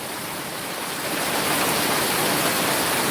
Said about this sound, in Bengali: খুব তুফান শুরু হয়েছে